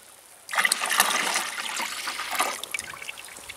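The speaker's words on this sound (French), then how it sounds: "Donc je vais tout verser dans l'arrosoir." Urine pours from a bottle into a 10-litre plastic watering can as a steady splashing trickle, close and fairly loud. It runs for about two seconds and then tapers into scattered drips.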